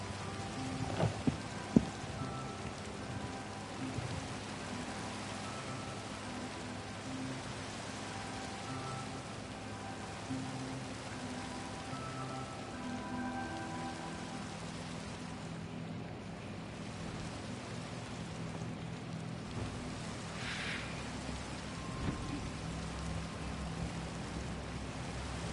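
Steady rain falls in Minecraft, an even, continuous hiss of drops that runs throughout with a low rumbling undertone and a few isolated clicks, with no talk.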